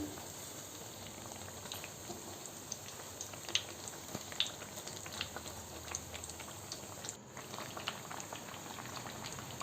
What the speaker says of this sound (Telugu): ఎక్కువ వేస్తే కూడా బాగా ఫ్రై కాదు అందుకని ఫోర్ ఫోర్ పీసెస్ ఇలా చేసేసుకున్నాను అప్పుడు బాగా డీప్ ఫ్రై అవుతాయి